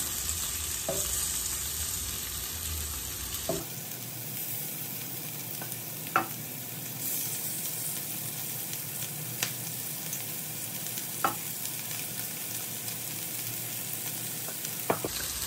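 Chicken pieces frying in a curry pan, a steady close sizzle and spit that goes on throughout, with occasional sharp pops and a clear change in tone a few seconds in, with no voices.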